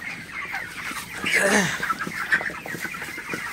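Broiler chickens clucking and squawking inside a hot poultry shed, a busy flock close by with one louder rising call in the middle, over steady background noise and some nearby talk.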